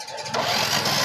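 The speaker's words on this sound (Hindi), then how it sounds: "अब यहाँ पे लगाओ मोनू, सेल्फ लगाओ, देखो" A motorcycle's electric self-starter whirs and grinds continuously at close range in a workshop, a steady buzzing crank that does not catch, on a bike with a drained battery.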